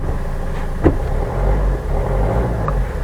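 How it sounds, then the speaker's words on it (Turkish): A Hyundai Accent Era engine revs as the gas pedal is pressed, a loud close rumbling drone that swells and holds over a few seconds. "Şimdi gaza basıyorum."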